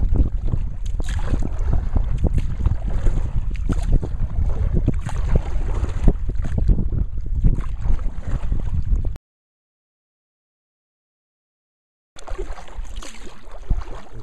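Strong wind roaring across a boat on the Missouri River in the Missouri Breaks, below Judith Landing, a loud steady gusting rush with microphone buffeting that cuts out to silence for a few seconds, then returns.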